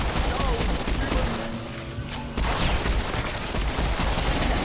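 Sustained gunfire from a weapon with unlimited ammunition in the first-person shooter Serious Sam 4, dense and loud for most of the clip with a brief lull, over game music and effects.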